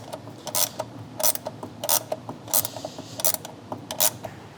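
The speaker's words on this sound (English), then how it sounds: "Now put a 12mm wrench on the bolt and use a 13mm wrench on the nut." Two wrenches, 12mm on the bolt and 13mm on the nut, tightening hardware on a 2021 Supra cold air intake: a string of brisk metallic ratcheting clicks in short repeated bursts, fairly close and moderately loud, with no talking.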